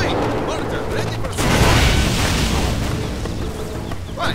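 Mortar artillery fire from a Demolition General in C&C Generals Contra mod, a sustained loud barrage of booms and rumbling blasts, close and continuous, with battle sounds layered underneath.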